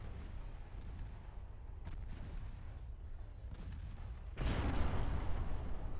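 Naval gunfire of high-explosive shells in the warship game Ultimate Admiral: Dreadnoughts: distant booming shots and rumbling over a steady low drone, with a heavier, louder blast rolling in near the end.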